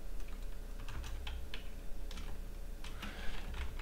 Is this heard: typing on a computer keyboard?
yes